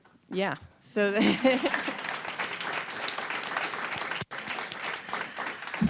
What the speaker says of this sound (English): So we want to applaud that and recognize every single company that submitted